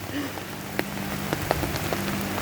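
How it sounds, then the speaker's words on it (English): Steady rain falling outside at the cattle lots, a close continuous patter on surfaces with scattered sharper drips ticking through it, alone without talk. "you can see it's raining out here"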